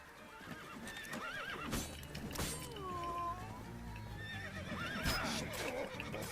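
A horse whinnies loudly in the video game The Witcher 3: Blood and Wine amid hoof clatter and sharp impact noises, with a few shrill neighs rising over the busy, chaotic background.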